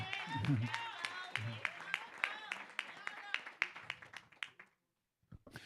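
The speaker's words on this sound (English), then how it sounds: "Let's give Hope another round of applause." An audience at a youth and Father's Day celebration claps, a dense patter of hands that thins out and stops, with a few late claps after a brief silence.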